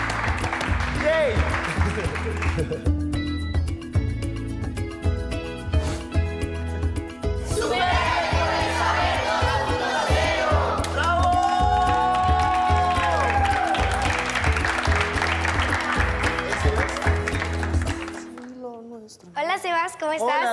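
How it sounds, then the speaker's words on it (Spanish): A studio audience applauds and cheers at an educational TV show, with loud, dense clapping and whoops mixed with music and voices, fading out abruptly near the end. "Y un aplauso a todos para Bienvenidos Sean."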